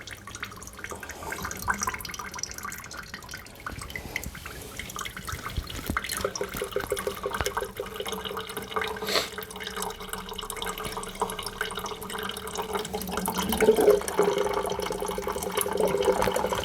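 Coolant draining out of a PC water-cooling loop, a steady trickling, splashing liquid flow with a faint gurgle, close and continuous, with no voices.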